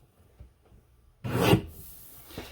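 Cardstock pieces trimmed for a card kit: a single short rasping cut lasting about half a second, close and fairly quiet, after near silence.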